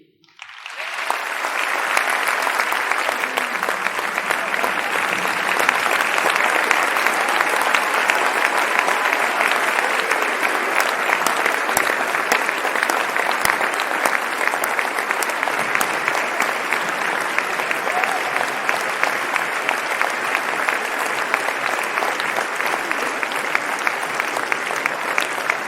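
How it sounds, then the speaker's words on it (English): An award ceremony audience bursts into sustained, loud applause, the clapping rising quickly and holding steady for nearly half a minute. "please join us in a round of applause for the 2019 recipients"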